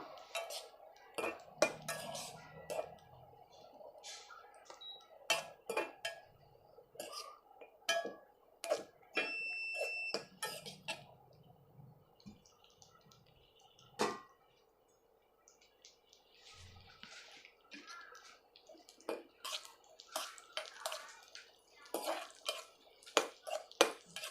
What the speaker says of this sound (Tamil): திராட்சை கிஸ்மிஸ் ஸோ இதையும் சேர்த்து வறுத்துடலாம்